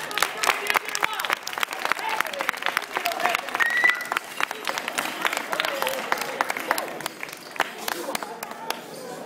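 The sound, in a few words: audience applause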